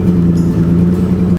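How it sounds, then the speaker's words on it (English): A BMW E28 engine idles roughly while misfiring, a loud, close, steady low drone with an uneven, lumpy pulse, heard alone before a sudden cutoff at the end. "Still pretty rough. As you can hear, it's definitely still misfiring."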